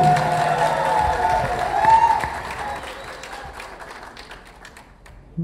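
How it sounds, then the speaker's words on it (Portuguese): Crowd at a public assembly claps in sustained applause, dense and loud at first and then thinning out as it fades, with a faint tone sounding through the first half. "Uma salva de palmas"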